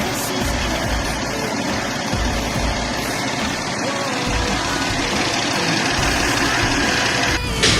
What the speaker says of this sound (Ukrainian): На цьому відео правильна робота двигуна